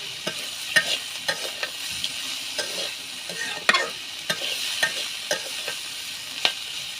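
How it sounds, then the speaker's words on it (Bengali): Food frying in oil in a pan is stirred, with sharp spoon scrapes and clicks recurring irregularly over a steady broadband sizzle, close and fairly loud, no voices. "আর সুন্দরভাবে নাড়াচাড়া করলাম"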